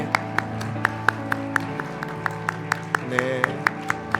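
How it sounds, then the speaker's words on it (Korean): A church congregation at a Sunday worship service claps in a steady, even rhythm. The crisp claps repeat evenly over sustained musical tones and a low murmur. "우리 선물 전해 주실 때 다시금 박수로 축하해 주시면 감사하겠습니다"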